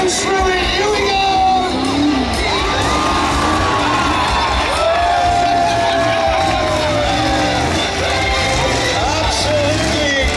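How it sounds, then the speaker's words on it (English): A crowd cheers at a monster truck freestyle show at a raceway, with loud, continuous shouting, whoops and children's yells. Voices rise and fall in overlapping calls, and an announcer-like voice sits within the din. "cheer if he goes through it"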